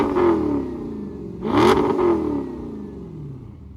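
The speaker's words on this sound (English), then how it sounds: "Rev it for me." A car with a custom exhaust revving in a few blips, the engine rising and falling close by, loud and raspy with a sharp peak mid-rev and no talking.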